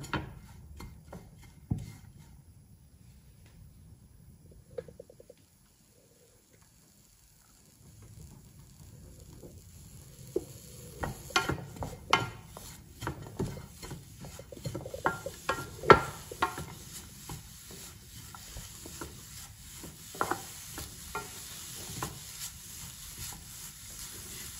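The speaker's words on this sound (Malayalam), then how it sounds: "തേങ്ങയും ഉള്ളിയും കൂടെ നമുക്ക് അടുപ്പിൽ വെച്ചൊന്ന് ചെറുതായി വറുത്തെടുക്കാം" Coconut and onion dry-roasting in a pan on a stove for a chammanthi, stirred with a spatula: scattered scraping clicks and rubbing taps, sparse at first after a quiet stretch, then busier and steadier, close and fairly soft.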